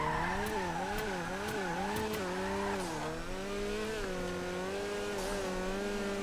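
A car drifts and skids around a corner in GTA 5, the engine wailing with a wavering, revving tone and tire squeal running continuously at steady loudness for several seconds, with no talk.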